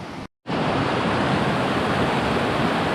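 A brook swollen well above its usual level rushes loudly and steadily, a dense broadband roar of water close by that fills the whole stretch after a brief silent gap at the start.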